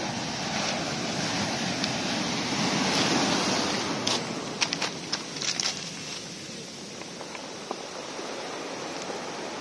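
Waves break and wash onto a beach in Cape Verde with a broad, rushing roar that swells and recedes, mixed with wind noise and a few faint clicking sounds.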